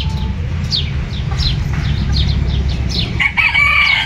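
Local village chickens in a park in Girne, with a rooster crowing in several short rising calls over a constant low background rumble. Sharper, stronger crows and clucks break in near the end.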